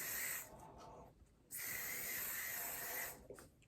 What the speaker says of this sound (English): spray it on real quick, get yourself a nice little coat